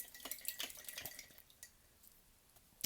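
Paintbrush swished and rinsed in a water jar during acrylic painting, a few soft watery drips and splashes close by, quiet and brief, no talking.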